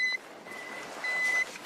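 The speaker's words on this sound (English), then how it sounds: "They rely on an audible beep that generally gets louder the closer you get to a victim." An analog avalanche beacon emits steady, high-pitched electronic beeps in a repeating pattern, clear and fairly loud over a faint background hiss, with no voices.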